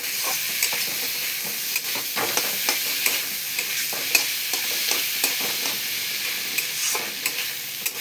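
Spices with ginger and garlic stir-fried in a pan for ghugni, giving a steady, close sizzle with continuous scraping and stirring strokes throughout.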